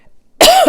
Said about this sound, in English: Hold on a second, I'm gonna cough.